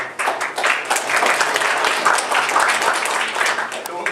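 A conference audience claps in a dense, steady wave of applause that fills the room, continuing without pause across the whole stretch.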